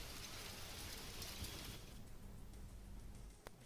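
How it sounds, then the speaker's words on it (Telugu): Heavy, unrelenting rain falling in Hyderabad, a steady broad hiss of downpour that stays even and moderately loud throughout, with no voices. "హైదరాబాద్ లో ఎడతెరిపి లేకుండా వర్షాలు కురుస్తున్నాయి"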